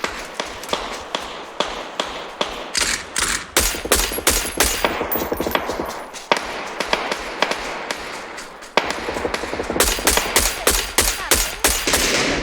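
Rapid bursts of automatic gunfire in the battle royale game PUBG, dense volleys of sharp cracks in quick succession with short gaps, loud and continuous through the whole stretch.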